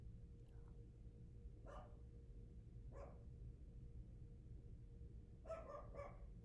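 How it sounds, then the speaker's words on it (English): A dog barks a few times, spaced apart and fairly faint, over a low steady hum. "Why are you barking?"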